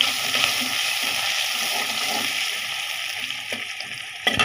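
Onion sizzling in a pan while an egg and potato curry is cooked, a steady close frying hiss with a few sharp spatters near the end.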